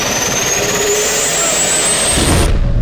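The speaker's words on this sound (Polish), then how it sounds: "samolot odlatywał i się rozwalił" An airplane in the video game Amnesia: A Machine for Pigs takes off and crashes, a loud sustained jet roar with a rising whine that cuts into a low rumbling impact near the end.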